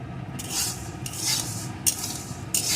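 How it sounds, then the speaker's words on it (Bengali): Rice grains are dry-roasted and stirred in a pan to make puffed rice, giving a gritty, rattling scrape that surges in four or five rhythmic strokes up close, with no talking. "চালগুলো দিয়ে কেমন ঝনঝন শব্দ হচ্ছে"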